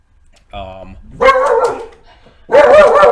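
A dog barks loudly at an Amazon delivery indoors, starting with a brief whine and then sharp, close barks that come in two bursts.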